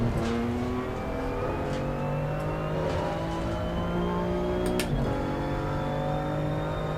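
A race car engine in Assetto Corsa Competizione revs and pulls hard. The steady harmonic whine climbs gradually, loud and close, with a brief gear-shift blip near the five-second mark.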